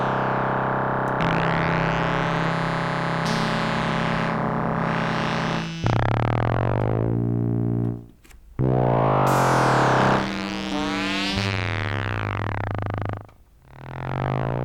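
A distorted synthesizer with FM modulation plays sustained tones that shift pitch in stepped jumps, with sweeping metallic harmonics, loud and alone, dipping briefly in volume twice.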